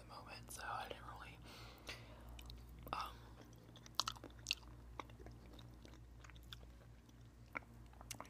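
Close, quiet chewing and biting on gelato in an ASMR setting, soft wet mouth sounds and occasional crisp crunches repeating through the stretch, with faint whispering and steady low background hum.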